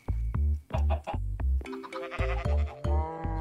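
Goats or sheep in the Minecraft One Block game bleat loudly and repeatedly in a rapid, pulsing series of close, nasal calls, with no talk over them.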